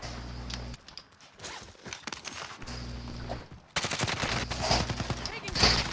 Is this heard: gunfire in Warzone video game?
yes